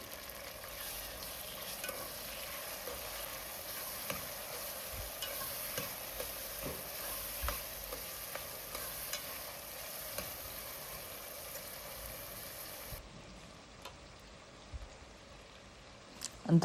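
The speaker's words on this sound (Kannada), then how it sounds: "ಟೊಮೊಟೊನೂ ಚೆನ್ನಾಗಿ ಫ್ರೈ ಮಾಡ್ಕೊಳ್ಳಿ." Tomatoes fry and are stirred in a pan for restaurant-style mushroom biryani, giving a faint, continuous sizzle with occasional soft scraping from the stirring.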